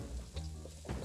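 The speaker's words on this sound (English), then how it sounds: "Using a little bit of oil here, we're going to saute the garlic until it's brown" Garlic sautéing in a little oil for squid adobo, a soft continuous sizzle with a couple of brief crackles, close and steady.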